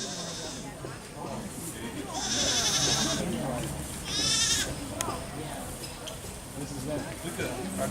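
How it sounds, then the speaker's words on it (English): Young goats bleat at a goat farm, with several loud, wavering cries close by in quick succession, while people talk nearby and the barnyard stays noisy between calls. "Younger goats here."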